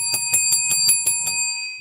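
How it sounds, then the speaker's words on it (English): A bell struck about seven times in a quick, even rhythm, each bright metallic ring overlapping the last before the sound fades out. "let me ring the bell. I need to ring the bell."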